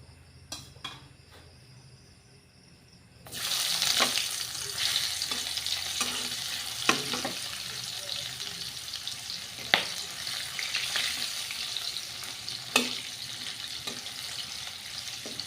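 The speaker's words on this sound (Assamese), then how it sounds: "মই পিঁয়াজেই দিওঁ তেলত" Onion drops into hot cooking oil and sizzles loudly, a steady crackling hiss that continues for several seconds with occasional sharper pops as it is stirred.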